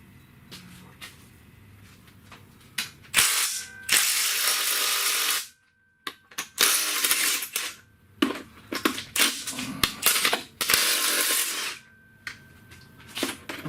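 Bolts on a Honda J35 engine bracket being loosened with a power tool, giving repeated loud bursts of whirring separated by short pauses and clicks of handling, close by with no talk.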